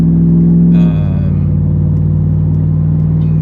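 Supercharged 2022 Chevy Camaro ZL1 1LE with a Gen 5 3-liter Whipple supercharger, KMS Stage 2, idling loudly up close with a steady deep rumble and a brief rev blip near the start.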